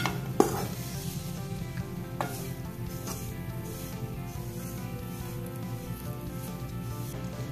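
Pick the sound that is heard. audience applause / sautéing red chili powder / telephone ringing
sautéing red chili powder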